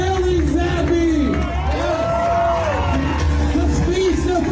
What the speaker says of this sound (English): That's a big cheer right there.